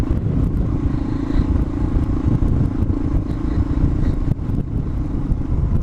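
A Suzuki DR650 motorcycle engine is revved while riding through sandy desert, a loud, steady, close-up drone with wind buffeting and no talk.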